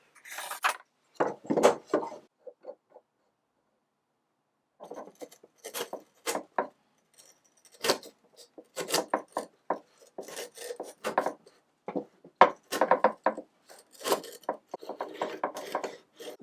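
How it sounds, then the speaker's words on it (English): A marking knife scoring wood, heard as short, dry scraping strokes close up. Clusters of quick passes are separated by pauses, including one long silent gap, with no talking. "I'm going to use the marking knife that came with this tool."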